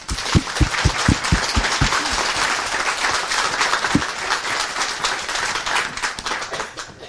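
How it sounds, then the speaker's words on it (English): Crowd applause after the Nancy Murray Cup camogie final between Mayo and Wicklow, opening with a few loud close claps and then a steady dense wash of clapping from many people that fades slightly at the end. "Can we please give a round of applause to Mayo?"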